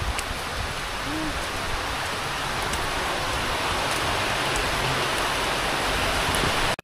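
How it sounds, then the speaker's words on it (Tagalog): Steady rain falls near Aw-asen Falls in Ilocos Sur, a loud, even hiss of drops that holds unbroken for several seconds. "Umuulan na naman, oh."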